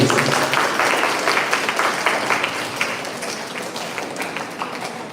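Dense, steady applause from a student audience at a school event, many hands clapping at once, fairly loud and continuous before gradually thinning out slightly toward the end.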